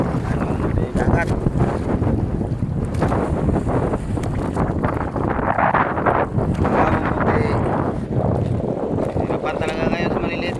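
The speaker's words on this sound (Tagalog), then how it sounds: "Lakas ang hangin." Strong wind roars at sea around a small fishing boat during the amihan monsoon, with heavy gusts buffeting the microphone and water churning near the hull. The rush is continuous and loud.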